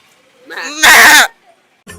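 A person imitates a goat with one loud, quavering bleat. A softer vocal lead-in comes before it, and a short voiced sound follows.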